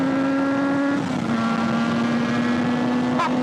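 Yamaha YZF500 500cc four-cylinder two-stroke motorcycle engine holding a steady, buzzing idle-to-mid rev with a brief dip and recovery, up close and continuous, then a quick rising blip at the end.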